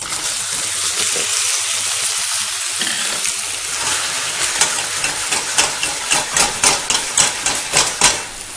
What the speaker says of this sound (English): I've got my apples here, and I'm going to throw them in.